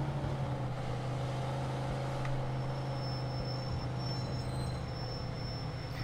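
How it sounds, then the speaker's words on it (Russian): Car brakes squeaking while driving in the video game Mafia II, with worn, barely working brakes: a high thin squeal runs steadily over a constant low engine and road drone. "я насколько слышу по скрипу, тормоза типа чуть-чуть работают, но совсем, совсем плохо"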